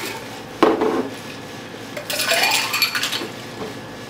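A Sicilian Cosmo cocktail with cranberry juice is stirred back and forth, a sharp clink at the start followed by a run of rattling, scraping strokes of a spoon against the glass, close and clear with no talk.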